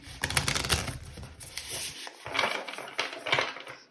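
Tarot cards are shuffled by hand in quick riffling bursts, close and crisp, with short pauses between passes.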